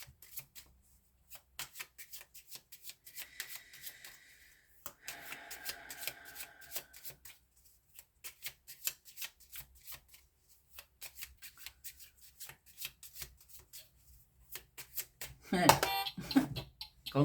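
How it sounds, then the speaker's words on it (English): Tarot cards being shuffled by hand in short, crisp riffling bursts and soft slides, close and quiet, with pauses between rounds and a brief murmur of speech near the end. "Can't shuffle and talk at the same time."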